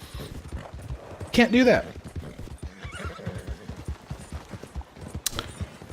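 A horse whinnies loudly and close in Red Dead Online, while hoofbeats clop steadily underneath and someone talks over them, with a sharp crack near the end.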